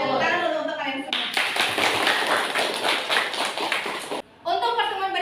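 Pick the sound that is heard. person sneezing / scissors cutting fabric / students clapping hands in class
students clapping hands in class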